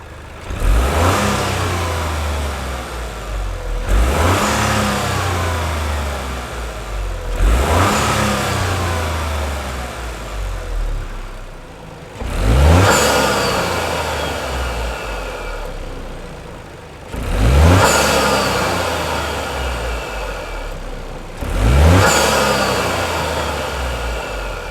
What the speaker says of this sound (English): a nice byproduct of de-restricting the intake system is that we release the sound of the turbo